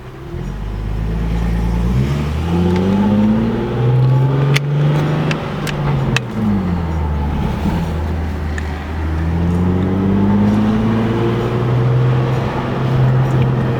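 Loud engines of two catless cars, with no catalytic converters, revving hard, pitch climbing and falling in repeated waves, with a deep rumble throughout and no voices.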